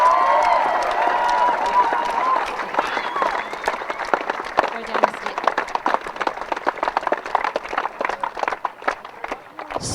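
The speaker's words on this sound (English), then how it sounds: "let's have a massive round of applause" Loud crowd applause and cheering for the bronze medal-winning Auckland Grammar boys' under-18 eight at a rowing regatta, dense clapping that thins toward the end.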